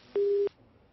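A single steady telephone busy-signal beep after a phone-line call to a guest on a news broadcast drops, clear and close for about a third of a second, then quiet line hiss.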